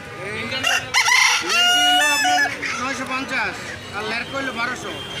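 Roosters crow repeatedly with drawn-out calls over a busy weekly poultry market crowd in Sirajdikhan, Bangladesh, native chickens clucking nearby and people talking throughout.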